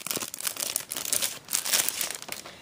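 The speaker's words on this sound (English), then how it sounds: "let me go ahead and open it up. So pardon the crinkling again." Plastic packaging on a Hobonichi Avec planner crinkles and crackles as it is opened, a close, continuous run of sharp rustling bursts with no talking.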